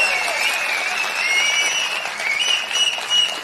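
A crowd at a political meeting applauds, with steady, dense clapping that stays loud and close throughout, with no clear voices over it.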